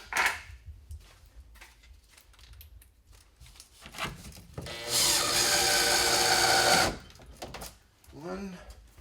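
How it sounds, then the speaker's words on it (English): A power drill drives the final screws into the front panel of a bathtub being installed in a washroom, two short bursts and then a long steady whir of several seconds, with someone talking before and after. "So now I'm ready to put these final screws into the front."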